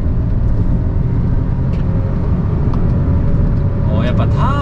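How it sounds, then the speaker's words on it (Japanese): A Honda N-BOX Custom kei car with a turbo engine accelerates at full throttle on a mountain pass, its loud steady drone heard from inside the cabin while someone talks over it. "さあアクセル全開、"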